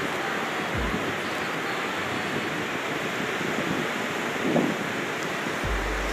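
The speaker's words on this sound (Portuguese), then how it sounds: "Só curtindo essa brisa do mar, aqui nesses coqueiros." Steady sea breeze rushing across a beach lined with coconut palms in Ilhéus, Bahia, a continuous broadband wash with distant surf and a few low microphone buffets.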